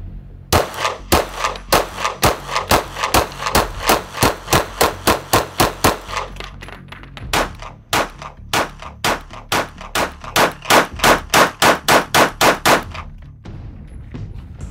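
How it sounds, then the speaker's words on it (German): Rapid gunfire at an outdoor shooting range, loud sharp shots in fast bursts of many rounds, a short pause, then another long rapid string ending in a few last shots. "Those were the last two shots."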